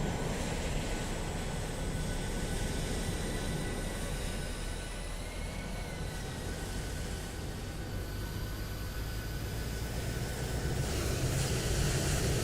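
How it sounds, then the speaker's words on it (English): A steady, dense roar of airplanes fills a flight simulator airport scene, broad and continuous for the whole stretch with faint whining engine tones drifting through it. "Hearing a lot of airplanes out here."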